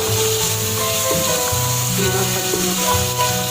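Tomatoes fry in a pan with a steady, close sizzle that hisses evenly throughout, with faint tonal background sounds underneath.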